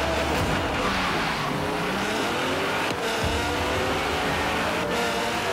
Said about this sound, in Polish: Mam Nissana GTR-a, więc naprawdę bardzo fajne przyspieszenie,